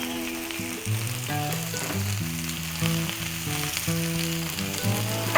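Thin parboiled ham slices sizzling on a Blackstone griddle, an even crackling sizzle that holds steady throughout with a low tonal hum beneath it.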